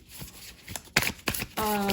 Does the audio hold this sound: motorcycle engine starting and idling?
no